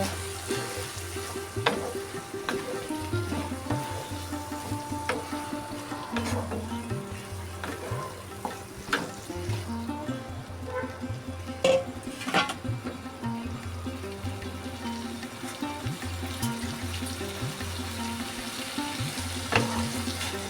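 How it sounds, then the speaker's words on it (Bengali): Boiled mutton keema stir-fries in a pan, frying sizzle broken by repeated scraping and stirring clatters, with faint water sounds in the background and no clear talk. "সেদ্ধ করা কিমা দিয়ে দিলাম দিয়ে এখন ভালো করে একটু কষে নেব"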